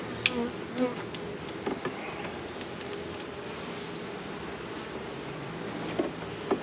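Honey bees buzzing around an open beehive during a frame inspection, a steady, dense hum of many bees close by, with a few faint knocks and brief louder passes, no talk.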